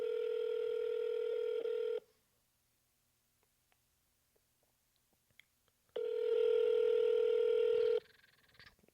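Telephone keypad tones sound during a real estate cold call, two long steady electronic tones each lasting about two seconds, separated by near silence.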